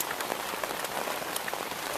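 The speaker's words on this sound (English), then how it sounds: "it's raining a lot now. It never stops." Heavy rain pours down steadily on a boat, a dense, continuous hiss of drops drumming on surfaces with no voices, close and fairly loud throughout.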